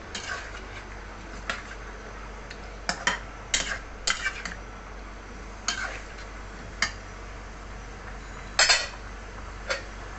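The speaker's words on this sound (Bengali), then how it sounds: "নাড়াচাড়া দিয়ে কাঁঠালটিকে মশলার সঙ্গে মিশিয়ে নিচ্ছি।" Boiled raw jackfruit being stirred with spices in a pan, quiet scattered scrapes and clinks of a spoon against metal over a soft background, with irregular gaps between strokes.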